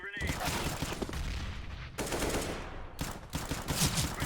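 Bursts of rapid automatic gunfire and single heavy shots from the shooter game CS:GO, including a Desert Eagle pistol, crackle densely in clusters separated by brief gaps, loud and close throughout.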